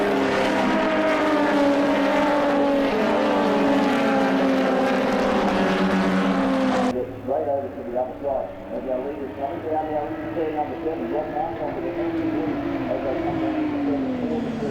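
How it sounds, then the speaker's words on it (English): A full field of race cars taking the opening lap on a dirt track at a championship final, engines roaring loud and continuous with rising and falling pitch as they pass, under steady commentary. "The whole field of cars taking the opening lap just to try and get used to the track conditions out here."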